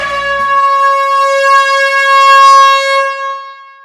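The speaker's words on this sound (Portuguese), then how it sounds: "pode soar a buzina que esse episódio já está começando" A single loud air horn blast, a bright steady multi-tone blare held for over three seconds before fading, with a brief exclamation just before it.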